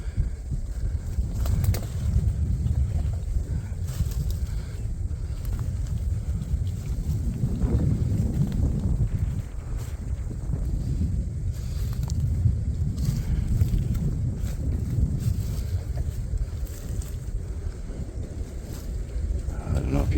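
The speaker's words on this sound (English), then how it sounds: "The wind's coming right from there." Wind blowing outdoors while scouting woods for turkeys and deer sheds, a loud low rumbling buffet against the microphone that surges and eases across the whole stretch, with a voice briefly heard.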